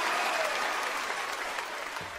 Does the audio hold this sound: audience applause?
yes